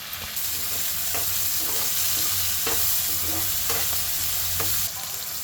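Fried fish pieces being stirred in a pan with ginger garlic paste and turmeric for a cucumber and bommidi fish curry, a steady sizzle with repeated scraping strokes of the spoon at a regular rhythm, close and continuous, no talking.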